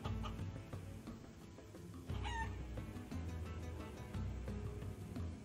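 A chicken in the video game Guacamelee! 2 clucks and crows amid a busy game soundtrack, with short bird calls rising over the steady music and no one talking.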